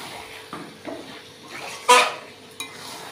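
Mutton being stir-fried in spice masala in a pan, with light sizzling under intermittent spoon scrapes and metal clanks, one sharp clatter standing out, and no speech.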